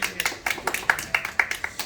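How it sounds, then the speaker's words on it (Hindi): A small gathering claps to welcome the new year 2023 at a home: a quick run of sharp, close hand claps in a loose, uneven rhythm. "एक बार मैं चाहूंगा इस नया साल के लिए जोरदार ताली बजा करके वेलकम करूं"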